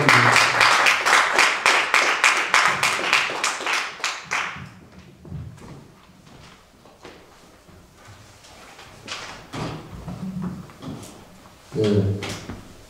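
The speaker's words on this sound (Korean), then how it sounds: "나오실 때 크게 박수를 보내드립니다" An audience at a church pastoral seminar on modern culture claps loudly and rhythmically for a lecturer coming forward, the applause fading after about four seconds into scattered thuds, footsteps and room noise, with a short clatter near the end.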